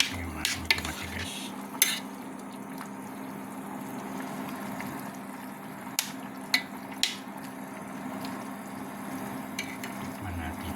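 A covered pot of native chicken soup with papaya, green chilli and malunggay boils with a steady low bubbling hiss, broken by a few sharp clinks of lid or utensil.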